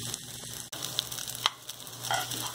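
Loose rice toasting in a pan, a soft, steady sizzle with a few faint clinks and stirring scrapes, close and quiet, with no talking.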